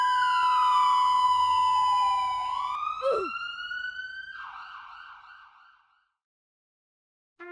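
An ambulance siren wails with a falling pitch that rises again, then fades away and leaves silence before a brief sound at the end.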